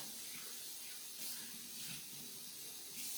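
A kitchen tap runs steadily while a dish is rinsed under it, a soft, continuous hiss of water with slight splashing variations, fairly quiet and alone.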